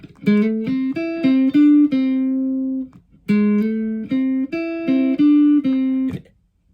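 Clean guitar notes played in two short phrases, each note gliding up into pitch before ringing, with a brief gap between the phrases.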